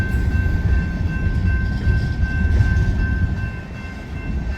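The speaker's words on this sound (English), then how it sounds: "Never seen a train come across 141 in Crivitz before." A train rumbles past close by as it crosses Highway 141 in Crivitz, a heavy low roar of rolling wagons with a faint steady tone above, continuous throughout.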